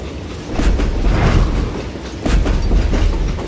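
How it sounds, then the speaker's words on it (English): Train rolling along the tracks in the video game Call of Juarez, a loud close rumble with rhythmic clattering pulses from the wheels. "I wondered if I was ever going to find the front of that train"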